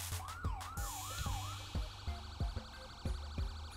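A Whelen 295 police siren in a FiveM game mod sweeps in a rapid wail, then switches to sharp repeated yelps and short electronic blips, fairly faint and with no talking.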